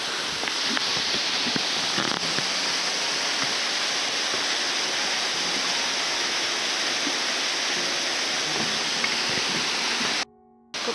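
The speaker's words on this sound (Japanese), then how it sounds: "ここが不動滝" Fudo Falls at Akame 48 Waterfalls in Japan roars continuously, a loud, unbroken rush of cascading water close by that cuts off abruptly near the end.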